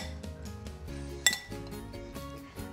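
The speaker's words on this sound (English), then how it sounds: "I'll mix these ingredients together." A utensil stirs bacon, onions and sun-dried tomatoes in a dish, producing soft, repeated clinks and taps against the bowl with one sharper knock, close and quiet, with no voices.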